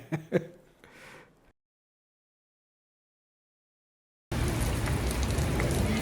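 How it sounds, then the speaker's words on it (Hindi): Heavy rain pours steadily on Red Square in Moscow, a dense, even hiss that comes in loud after a brief spoken bit and a silent gap. "बहुत तेज़ बारिश हो रही है"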